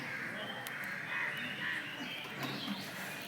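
Birds calling from large trees in a village in the early morning, with faint, distant caws and chirps scattered over a steady outdoor background, no speech.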